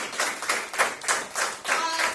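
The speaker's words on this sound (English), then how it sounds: "I want to particularly give a big round of applause to all of the folks who are pitching tonight" A few people clapping for pitchers at an evening event, a sparse, quiet run of individual claps in a loose, uneven rhythm, close by rather than a big crowd.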